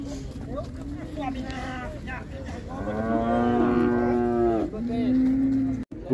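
Cattle at a livestock fair in Águas Belas give drawn-out moos, several overlapping calls near and far, while people talk over the crowded market din.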